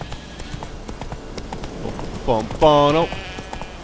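Roach the horse's hooves clip-clop in Witcher 3 in a steady, fairly quiet rhythm of light knocks, while a man briefly hums and exclaims over them.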